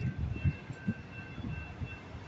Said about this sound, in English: the head of the train is right parallel or perpendicular, right up, blocking the traffic.